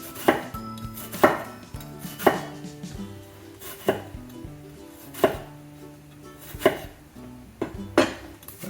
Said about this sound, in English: Again, just cut down, use your fingers to give your knife a path to follow